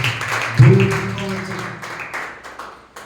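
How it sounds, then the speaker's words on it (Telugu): A church congregation at a Resurrection Sunday service breaks into clapping, a soft scattered patter of hands following a sustained tone, fairly close and fading. "చప్పట్లు దేవుని నామమున మహిమపరచుదాం"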